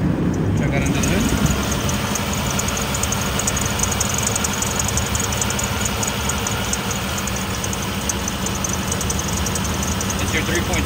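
A 2000 Isuzu Rodeo's 3.2-liter automatic six-cylinder idles with the hood open, a dense, steady engine rumble and whir held at constant loudness throughout.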